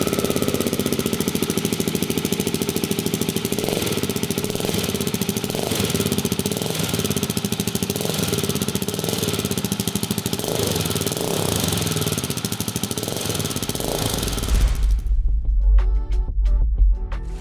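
A KTM 690 motorcycle fitted with a Sharon stainless steel exhaust runs with a loud, steady low engine thrum and rhythmic pulsing, heard close for about fifteen seconds before it cuts off abruptly.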